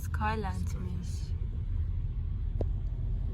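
A car drives through Istanbul traffic, giving a steady, low cabin rumble throughout, with a brief voice at the start.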